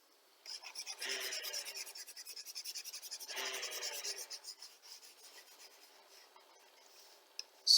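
Pen scratching across paper in two long bursts of writing, close and fairly quiet, while working out a Grade 12 geometric sequence problem in a maths lesson, followed by faint lighter strokes.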